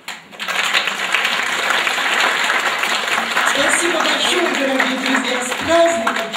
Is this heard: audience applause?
yes